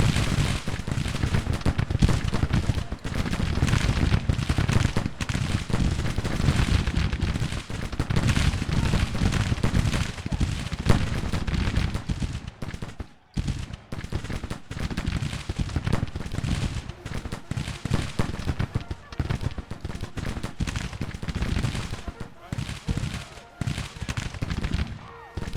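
Troops firing in the Civil War strategy game Grand Tactician: dense, continuous musket volleys and crackling rifle fire, loud and sustained throughout with a brief lull midway, a voice speaking faintly underneath.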